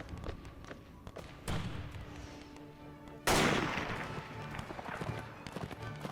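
Musket volleys and artillery fire boom through a battle in the video game Between Empires. A loud burst hits at about one and a half seconds, a sharper heavier blast follows near three seconds, and scattered shots and thuds continue throughout.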